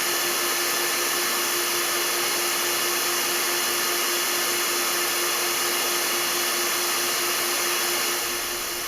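A hair dryer blows air into a plastic tube, a loud steady whirring roar with a constant motor whine that holds unchanged and then tapers slightly at the very end.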